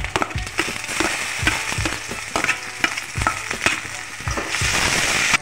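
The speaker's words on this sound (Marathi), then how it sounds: "मी त्यानंतर बारीक चिरलेला कांदा टाकून घेणार आहे" Finely chopped onion sautéing in a pan where green chillies are already cooked, giving a steady close sizzle broken by repeated scraping stir strokes that grow louder toward the end, with no voices.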